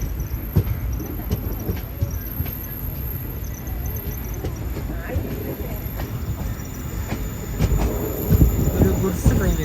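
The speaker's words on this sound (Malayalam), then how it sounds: "ഒരു ഗുഡ്സ് ട്രെയിൻ വരുന്നുണ്ട്. അയ്യോ, ലോക്കോ മാത്രമേ ഉള്ളൂ കേട്ടോ." A goods train locomotive running alone without wagons pulls into a railway station: a steady close rumble with scattered clanks and a faint wheel squeal, growing louder toward the end.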